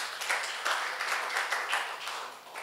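A church congregation claps together during a Sunday worship service, producing steady, dense applause throughout with a few louder swells.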